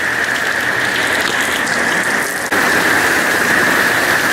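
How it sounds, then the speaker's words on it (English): Steady, dense hurricane rainfall pouring down hard and close, a constant hiss with no pauses. "A whole lot of rain."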